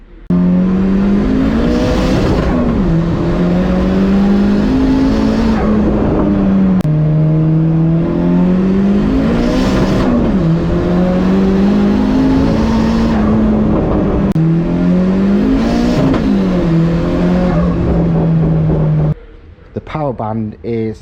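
A Volvo turbo car accelerates hard through repeated gear pulls, its engine note rising and dropping in long sweeps, loud and close from inside the car, ending with a brief clattering noise.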